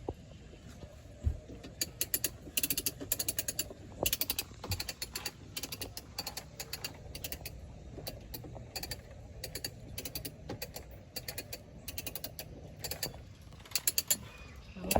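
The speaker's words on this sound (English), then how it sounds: "Winch up, finally." A sailboat winch is cranked with its handle, producing a rapid, fairly close ratchet-pawl clicking in uneven bursts that go on throughout, with occasional faint creaks.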